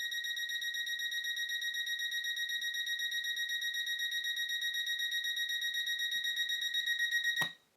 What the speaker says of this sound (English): And you can hear the pace of the alarm quicken.